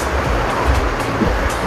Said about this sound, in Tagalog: Tapos malakas talaga yung tunog ng tubig.